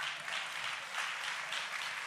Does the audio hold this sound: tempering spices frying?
no